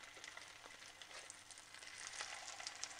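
Baby corn and palak tikki are set into hot oil to shallow fry, giving a soft, steady sizzle with faint crackles that swell slightly toward the end. No voices are heard.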